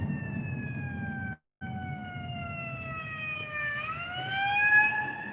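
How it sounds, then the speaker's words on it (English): A fire truck siren wails at moderate distance, a steady tone that cuts out briefly, then resumes and bends upward in pitch, heard alone without talk. "Fire truck."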